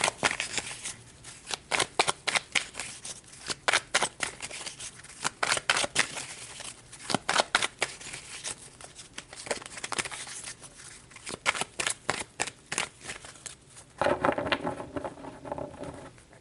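Tarot cards are shuffled up close in quick riffling bursts of papery flutter and slaps, each lasting a second or so, repeating steadily with short pauses between, and no one speaks.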